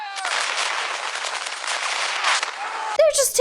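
Gunfire from the film The Patriot plays as a dense, loud burst of crackling shots and rumble, followed by people talking and reacting over the end of the barrage.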